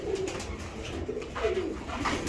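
Racer pigeons, an A-grade grizzle hen among them, coo softly in a loft, with a few low throaty calls rising over a steady background murmur of other birds.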